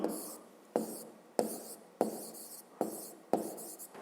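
Handwriting with a pen or chalk on a surface during a fifth-grade maths lesson, six steady scratchy strokes, each starting with a sharp tap and fading before the next, quiet and close.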